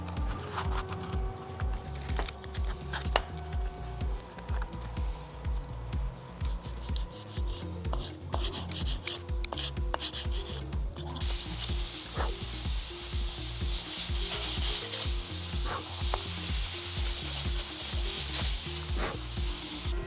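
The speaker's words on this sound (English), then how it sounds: "So now with the rough sandpaper, you're obviously taking off quite some material" Rough sandpaper rubs against a windsurf fin, making a steady scratchy rasp with a low background hum; the grinding grows louder and brighter through the second half, with no talking.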